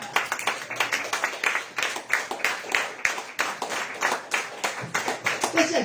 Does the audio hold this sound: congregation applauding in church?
yes